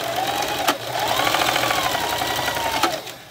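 Sewing machine stitching three layers of fabric for a face mask, a fast steady mechanical whir close up, running continuously with brief pauses and no talk.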